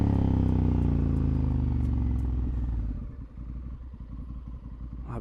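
A Honda Africa Twin motorcycle engine is ridden loud and close, holding a steady drone before easing off partway through and settling into a rougher, lower running note.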